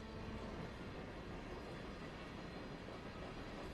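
Freight train rolling out in Train Simulator 2022, a steady broadband rumble of railcars moving on a slight grade, continuous and even with no distinct clacks, heard alone.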